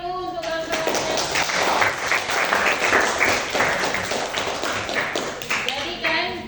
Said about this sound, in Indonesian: Kasih tepuk tangan dulu untuk kawan-kawannya